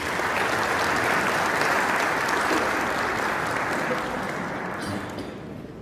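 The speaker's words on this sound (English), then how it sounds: "please give a huge round of applause to Mr. Amjad Mahmood" A conference audience at a remittance summit in Rome breaks into sustained, loud applause, a thick wash of clapping that holds strong before thinning slightly toward the end.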